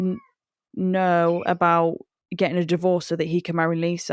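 A cat meows in drawn-out, wailing cries, loud and close, while a person talks over and between the calls.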